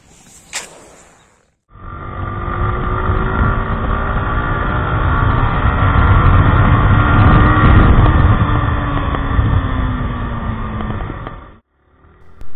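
Yamaha R15 V4 motorcycle engine under way on a ride, a loud steady drone with slowly rising pitch for about ten seconds, framed by brief quiet gaps at start and end.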